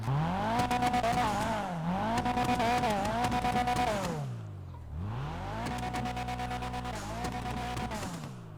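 A sports car in GTA 5 Online revs hard up close, rising and falling across the range with a raspy, buzzing exhaust tone, dropping briefly before another long, loud run of revving.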